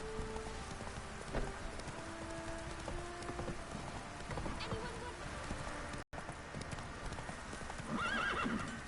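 Roach, Geralt's horse in The Witcher 3, trotting with steady rhythmic hoof clip-clops amid rain and game ambience, a whinny rising near the end, a voice briefly speaking over it.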